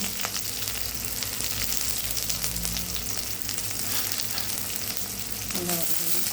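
Mustard seeds sizzle and crackle loudly in hot oil, a dense, continuous frying hiss with sharp pops throughout and a brief scrape near the end.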